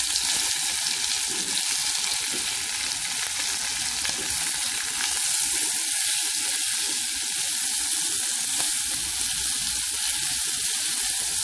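Bell pepper and hot pepper fry in ghee inside a pot, giving a steady, loud, continuous sizzle with fine crackling and no talk throughout.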